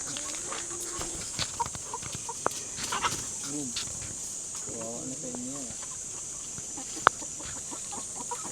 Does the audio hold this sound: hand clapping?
no